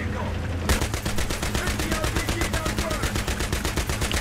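A .50 cal machine gun blazing away in Battlefield 3, a rapid, evenly spaced burst of loud, close shots that starts abruptly and hammers on without pause to the end.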